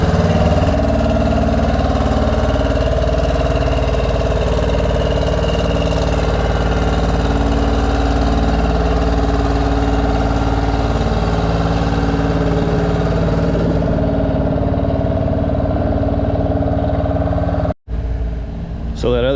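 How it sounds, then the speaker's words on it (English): A Farmall IH tractor at a Red Power Roundup show idles with a steady, loud mid-range engine drone and harmonic rumble, then drives past close by. A brief drop comes near the end. "So that other tractor was coming by."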